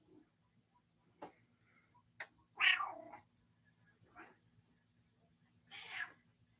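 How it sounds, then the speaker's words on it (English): Cat meowing indoors, a few short faint calls scattered over a quiet background with a low hum, while a sports broadcast plays faintly. "Hey, kitty. How you doing, buddy?"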